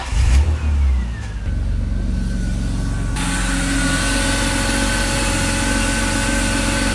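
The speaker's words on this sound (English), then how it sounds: "we're gonna give the car a quick start just to circulate some of the coolant" A BMW E36 engine cranks and starts in a driveway during a coolant flush, a brief starter whir followed by a steady rising idle with a whining tone, running continuously and close.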